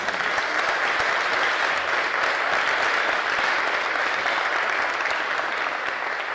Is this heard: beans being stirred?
no